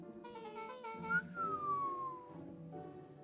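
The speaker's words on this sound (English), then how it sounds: "Let out a low whistle." A low whistle from the video game Beacon Pines, a soft sliding tone that rises then glides slowly downward over faint background music, with no talking.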